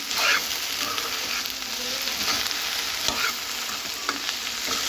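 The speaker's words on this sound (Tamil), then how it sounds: "உப்பு சேர்த்துட்டு நல்லா கலந்து விட்டுக்கலாம் ஸ்டவ்வை கொஞ்சம் மீடியம் தீ விட்டேன் அப்படியே வதக்கணும்னா சூப்பராக வதங்கிடும்" Okra stir-fried in a pan over medium heat after salting, a steady close sizzle under repeated scraping and stirring strokes, with no voices.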